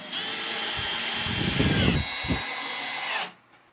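A power screwdriver drives screws into a wardrobe side panel with a steady, close whirring buzz. The note bogs and strains briefly partway through, then cuts off abruptly near the end.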